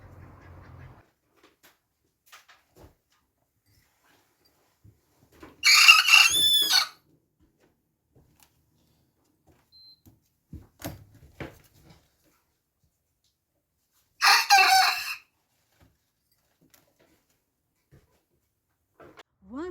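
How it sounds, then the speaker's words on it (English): A farm rooster crows twice, each call a loud, near burst of about a second, separated by long quiet stretches with faint scattered ambient sounds. "enjoy the crowing and the nonsense of the farm"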